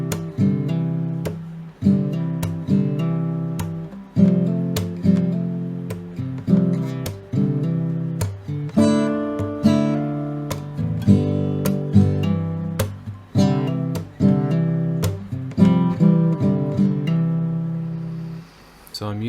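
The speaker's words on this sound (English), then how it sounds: "I'm using my thumb to strum, and then I'm tapping with all my fingers on the top of the guitar" An acoustic guitar mixes hammer-ons with thumb strumming and percussive finger taps on the top of the body, giving a busy rhythmic pattern of struck chords and knocks, close and fairly loud.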